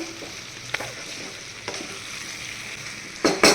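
Vegetables fry in a hot pan with a constant low sizzle, broken by a few sharp scrapes and clacks of a spatula stirring, the last one loudest.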